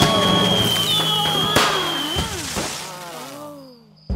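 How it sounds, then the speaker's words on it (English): A cartoon fireworks display in Fireman Sam fills the scene with whistling rockets that rise and fall in pitch, punctuated by several sharp loud bangs and crackles, continuous and close for about four seconds before fading out. "She's very close to that firework display, you know."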